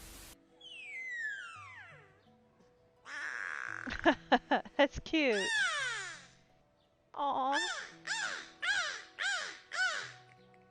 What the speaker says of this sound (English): These travel-sized whales are often called the canaries of the sea since they communicate with a series of high-pitched calls.